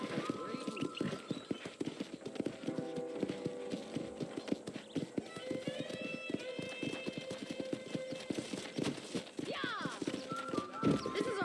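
Horse hooves clip-clop steadily near a horse corral in the video game Red Dead Redemption, with a horse whinnying and snorting and game dialogue heard over the hoofbeats.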